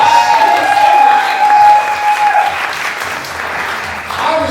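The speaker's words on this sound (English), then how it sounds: "Give her a big round of applause." A comedy mentalist show audience breaks into loud, sustained applause with some cheering, a dense crowd roar of clapping that holds steady throughout, with a faint tone lingering underneath.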